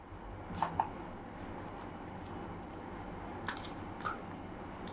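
Keystrokes on a computer keyboard while entering a name in a form, a few scattered light clicks over a quiet room hiss, faint and fairly close.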